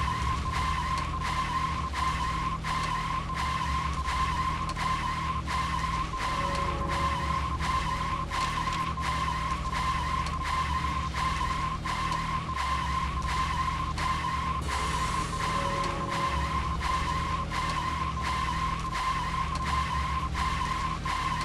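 Steady car engine drone with long tire squeals and skids in the video game Deadly Premonition, a continuous loud hum broken by rhythmic skid pulses and occasional brief in-game beeps.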